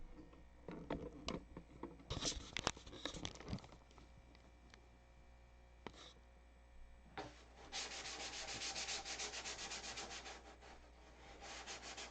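Sandpaper rubs over painted solid wingtips on a model to remove paint mistakes, starting with close, uneven scratchy strokes, then after a pause turning into a steady, brisk back-and-forth sanding that gets louder toward the end.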